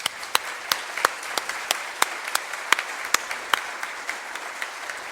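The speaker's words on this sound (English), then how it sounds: "Round of applause for everyone." At an awards ceremony, a modest audience gives steady applause, a thin patter of scattered, distinct claps rather than a dense roar, with no voices over it.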